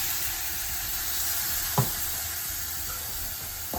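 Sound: hot water poured into frying snake gourd, sizzling

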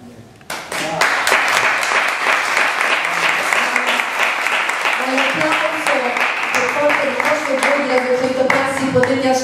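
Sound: theatre audience applause, Teatro dei Conciatori, Rome

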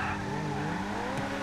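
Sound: car tires spinning and skidding in a racing video game

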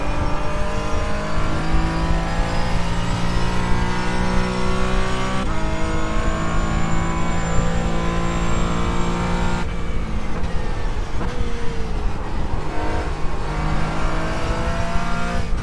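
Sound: race car engine sliding in iRacing video game

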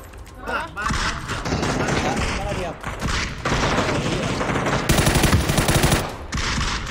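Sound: gunfire in the video game PUBG

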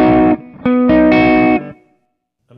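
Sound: electric guitar through Kemper amp, cleaner tone, bass rolled off

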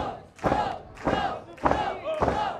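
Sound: wrestling crowd chanting in Lincoln Hall

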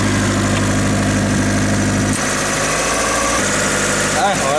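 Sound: turbocharged car engine running

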